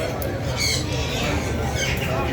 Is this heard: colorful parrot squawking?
yes